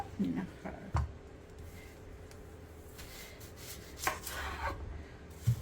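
A knife chops an onion on a cutting board in a few scattered sharp taps, close by and fairly quiet, with soft background rustling.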